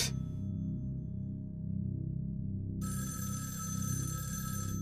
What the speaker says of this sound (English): if I hear a telephone ring, I'm done with this game